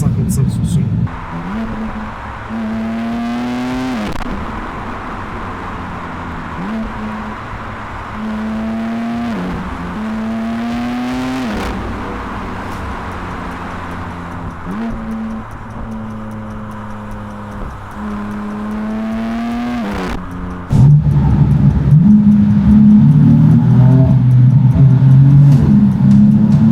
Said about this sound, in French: juste entendre le bruit du 6 cylindres